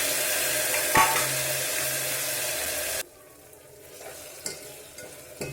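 Tomato pieces frying with onions, cumin and mustard seeds in hot oil, a loud steady sizzle with stirring clinks that cuts off suddenly halfway, leaving quieter scraping and faint kitchen sounds.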